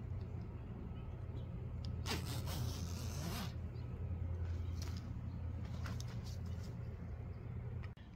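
A zipper on an extra-large unisex heated hoodie runs open and shut in a close, scratchy burst of a second or two near the middle, with a steady low hum and room noise around it.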